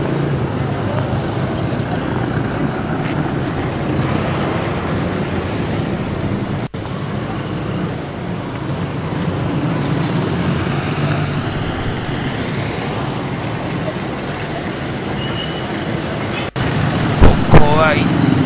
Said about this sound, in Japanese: 交通量が多いですね。